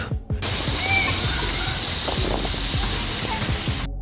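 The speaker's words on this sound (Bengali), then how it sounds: "আমি তো ভাবছি এই বড় বড় ঢেউগুলো না জানি কত ভিতরে ঢুকে পড়ে" Big ocean waves at a beach in Iceland, a steady, loud wash of churning, sloshing water that carries on without pause from start to finish.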